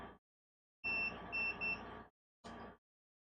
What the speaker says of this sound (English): they're not shorted only because you're making beeps